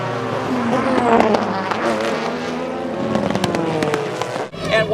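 Race cars scream past at the finish of the Watkins Glen 6-hour race, their high engine notes sweeping and shifting loudly, with sharp crackles and a sudden drop in noise near the end.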